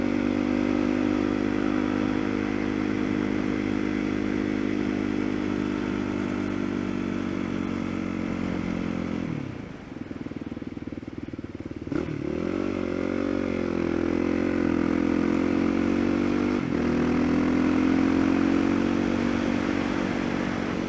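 A motorcycle ridden through a series of sharp turns: a loud, continuous engine drone with rising and falling pitch, dipping briefly midway as the rider eases off, then climbing again, with no voices.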